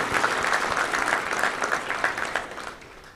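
A crowd at a touchdown club luncheon applauds a group of young men, brisk close clapping that stays strong and then starts to fade toward the end.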